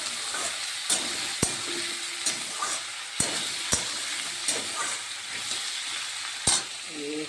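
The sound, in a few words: muri ghonto cooking in a pan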